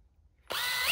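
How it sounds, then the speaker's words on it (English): A power drill bores a pilot hole straight down into wood, starting abruptly after a moment of near silence and then whining steadily and fairly loud at close range. "we're going to drill a pilot hole"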